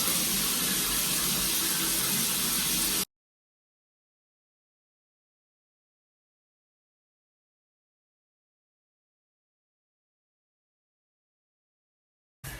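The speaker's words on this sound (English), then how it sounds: "I've done a bit of rinsing and we're gonna do a pat dry" Running tap water pours steadily into a sink while makeup is rinsed off a face, loud and continuous for about three seconds, then stops abruptly into silence before a brief burst returns at the very end.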